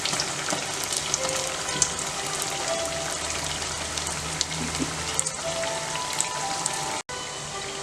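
Banana fritters (pazham pori) deep-frying in hot oil, a steady dense crackling sizzle like heavy rain that carries on without a break from start to finish, with a brief cut near the end and no talking.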